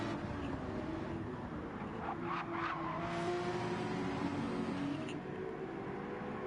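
Race cars braking and racing at the Bathurst 12 Hour, a steady distant engine drone with whining tones and brief brake or tyre bursts, heard faintly from afar without talk.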